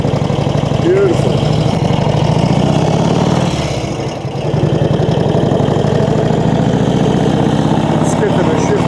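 A 1948 Indian Chief Roadmaster motorcycle engine runs steadily on the road with a continuous low throbbing drone, briefly easing off midway before picking back up, loud and close throughout.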